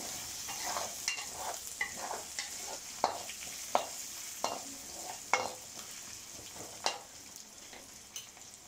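Garlic fries in oil in a pan while a spoon keeps stirring it for aloo dum masala. A continuous sizzle runs throughout, broken by repeated close scrapes and clinks of the spoon against the pan at an uneven pace.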